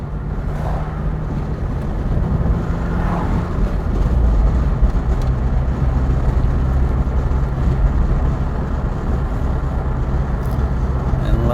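A 1986 Porsche 944 Turbo drives along a coastal road, its engine a steady, loud drone mixed with road and wind rush, holding an even pitch without any clear shift.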